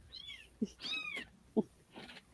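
An upset foster mother cat meows several times, giving rising and falling cries with short thuds in between, close and fairly clear over a quiet background.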